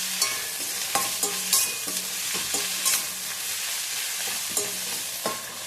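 Ginger-garlic paste fries in hot oil for idli manchurian, a steady close sizzle broken by regular scraping stirs of a spoon against the pan, with no talking.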